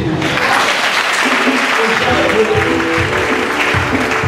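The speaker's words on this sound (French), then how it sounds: "acclame Jésus" Congregation applause acclaiming Jesus at a church service, loud and sustained clapping from a nearby crowd that fills the whole moment without pause.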